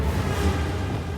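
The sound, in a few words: Incendio fire spell, Hogwarts Legacy video game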